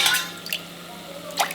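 Water poured into a pot while cooking khichadi with rice and dal, a few soft splashing drips close by, brief and quiet.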